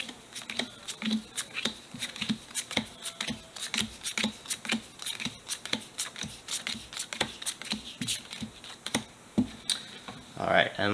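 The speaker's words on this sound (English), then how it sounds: "So let's get these cards mixed up here." Rapid papery riffling and soft card clicks repeat in quick bursts as Pokémon trading cards are shuffled, close up, with occasional talk mixed in.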